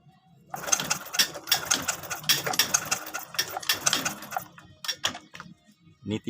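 A motorcycle engine is kick-started repeatedly without firing, a quick series of rhythmic mechanical clacks and scrapes, close and fairly loud, with no ignition following.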